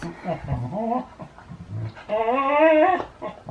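A talkative pet dog whimpers and pants in rising, wavering whines, then lets out a longer, louder drawn-out cry near the end, close to the microphone.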